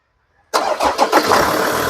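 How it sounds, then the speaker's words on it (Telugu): After a moment of silence, a 2017 Ford Endeavour Titanium Plus engine cranks and catches abruptly, then settles into a loud, steady running rumble close by. "ఒకసారి ఇంజన్ స్టార్ట్ చేయి"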